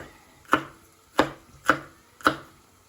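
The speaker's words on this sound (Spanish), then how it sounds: "Voy a picar el chile dulce." Four crisp, evenly spaced knife chops on a cutting board as sweet chili pepper is cut, close and clear with quiet pauses between strokes.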